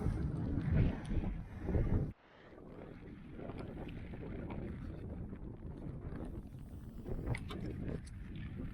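Gusty wind buffets outdoors on a wet, cold day at Walberswick, Suffolk, in a loud, rushing roar that drops briefly, then returns as a steady blustery rumble.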